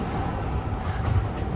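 A train rolls along its rails with a low, continuous rumble and rattle, close by and steady, with no talking.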